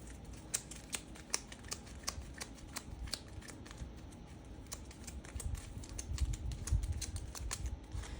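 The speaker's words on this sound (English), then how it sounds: "let's just shuffle these in also into these areas" Cards for the Conan board game are shuffled by hand on a tabletop, quick crisp riffles and taps in an irregular close run, growing a little busier toward the end.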